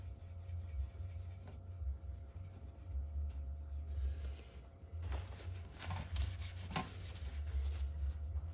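A PS4 part is rubbed clean with rubbing alcohol, giving soft repeated scrubbing and swishing strokes over a steady low hum, close and quiet with no speech.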